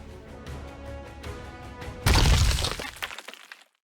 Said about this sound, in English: At last, Gluttony's core shatters.